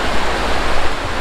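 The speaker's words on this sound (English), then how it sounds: "Look at that river." Broad, steady rushing of a river, likely swollen, seen from a roadside near Gatlinburg; continuous close wash of water with some wind buffeting, no voices.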